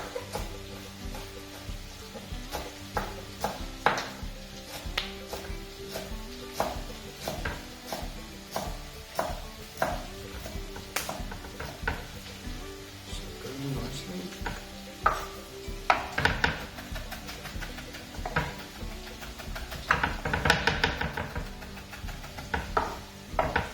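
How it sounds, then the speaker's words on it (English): A knife chops finely through chilli and garlic on a board in a home kitchen, a quick run of irregular crisp taps and knocks that speeds up and clusters in busy bursts toward the end, with no talking. "Now, to chop this up finely"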